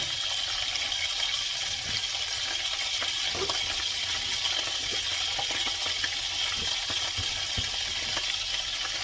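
Pork chops searing in a hot pan for honey garlic pork chops give a steady, close frying hiss throughout, with small pops and faint utensil clinks over the sizzle and no talking.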